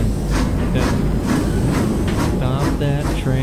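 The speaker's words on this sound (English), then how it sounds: "Stop that train" A train rumbling along in the video game Oddworld: Abe's Exoddus, a loud steady clatter and hiss filling the whole stretch, with a voice speaking over it.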